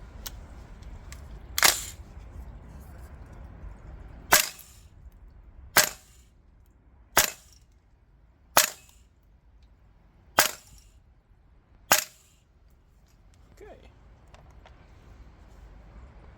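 A VFC Knights Armament L403A1/KS1 gas blowback airsoft rifle running green gas and 0.25 gram BBs fires seven sharp, evenly spaced single shots, each a crisp snap with brief ring, over quiet background.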